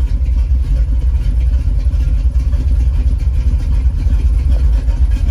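The engine of a 1978 square body Stepside pickup truck runs steadily close by, a loud, even rumble with a slightly clattery idle and no talking over it.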